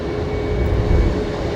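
A Singapore Airlines airliner at Brisbane Airport gives off a steady, loud engine roar with a broad rumbling hiss and a faint whine on top, constant over a short stretch with no talk.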